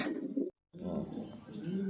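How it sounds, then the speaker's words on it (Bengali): Pigeons scramble and coo inside a cage, a steady close murmur of low cooing and rustling broken by a brief moment of silence before the flurry resumes. "শোক খাঁচাতে কবুতরগুলো ছোটাছুটি করছে"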